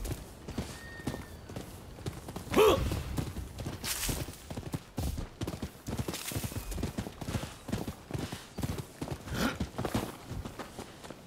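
Horse hooves clip-clopping at a walk in the video game Rise of the Ronin, a steady rhythmic series of close hoofbeats with a brief snort or whinny early on.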